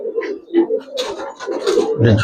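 A female silver Giribaz pigeon coos close by in a series of short, rolling calls rising and falling, with brief breaks between them and no voices.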